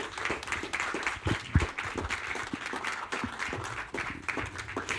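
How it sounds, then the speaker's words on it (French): Audience applause at an evening presentation event: close, sustained, dense clapping from many hands with some louder individual claps standing out, no talking. "je pense qu'on peut applaudir Ariane"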